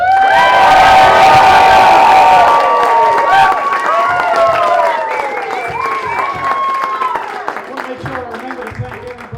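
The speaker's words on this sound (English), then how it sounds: "She needs the biggest cheer of everybody." Audience at a steampunk fashion show cheering loudly, with shouts, whoops and scattered clapping that gradually subside over several seconds.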